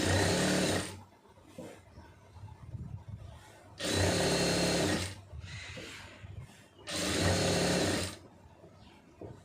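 A sewing machine stitches a pencil-fit garment in three loud, steady bursts of running motor and needle, each a few seconds long, separated by quieter pauses.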